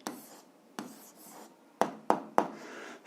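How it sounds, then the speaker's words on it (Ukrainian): A pen or pencil writes an algebra answer by hand on paper, giving soft scratchy strokes followed by several sharp taps and quick scribbles, close and quiet, with no talk. "ми спростили вираз, записуємо відповідь, пишемо відповідь"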